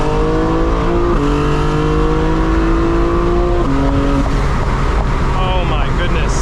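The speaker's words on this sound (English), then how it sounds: "I love how the car ricochets off the walls here." A 2025 BMW M4 Competition xDrive drones loudly on a night drive, its engine tone rising and stepping through gears as it echoes off nearby walls, with a voice now and then beneath the constant roar.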